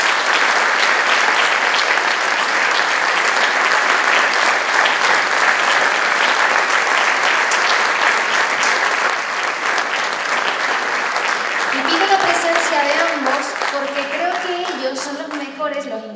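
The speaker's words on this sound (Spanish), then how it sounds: "vamos a darle un fuerte aplauso para que suban al escenario" An audience at the presentation of the restored San Agustín de las Madres gives loud, sustained applause for about twelve seconds. The clapping then thins as a voice begins speaking over its fading tail.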